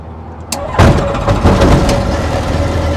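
A light aircraft's propeller engine starting: a brief click and whir, then the engine catches with a loud cough and settles into a steady, rough running drone close by.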